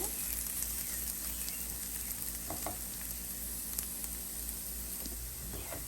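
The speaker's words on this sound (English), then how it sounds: "So the onion is browning nicely." Onion frying and browning in a pan, a soft steady sizzle with small crackles and pops throughout, quiet and close with no talking.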